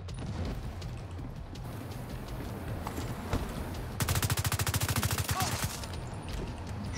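Gunfire in The Division 2 during a solo Stronghold mission: scattered shots over a constant battle din, then a rapid, steady burst of automatic fire lasting over a second before fading back to sporadic shots.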